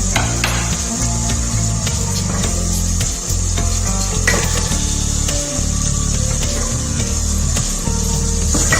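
Carrots and potatoes fry with spices in a pan, a loud steady sizzle broken by scraping and clicks from stirring.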